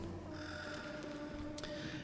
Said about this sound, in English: there are also 2 crows over at the back railing or wall, so make sure to scare them away